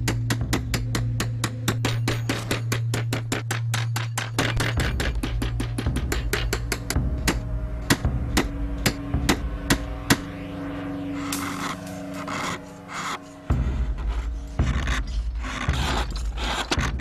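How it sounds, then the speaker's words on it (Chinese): Chisel cutting and shaping a soft inkstone block during rough carving: a fast run of sharp, evenly spaced strikes slows into sparser taps, then gives way to scraping and rasping, close up with no voices. "用凿和铲的方式修整砚石的造型"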